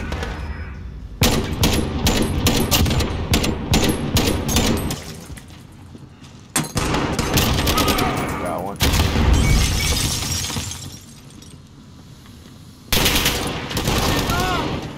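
Rapid automatic gunfire from Call of Duty Modern Warfare rattles in several loud bursts separated by brief lulls, with players talking over the shooting.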